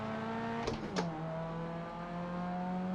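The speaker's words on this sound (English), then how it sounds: "Second gear really launches this car, but you're in danger of locking up your rear wheels" A C-class race car in the iRacing sim pulls hard in second gear, its engine a steady loud drone with a rising tone. A couple of brief bumps come early, and there is no talk.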